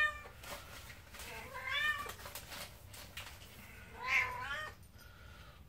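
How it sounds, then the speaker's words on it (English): A pet cat meows for a treat in a kitchen, with two drawn-out, rising-and-falling meows a couple of seconds apart. Both are fairly faint and heard over low room noise. "Give the kitty cat a treat so she'll shut her pie hole."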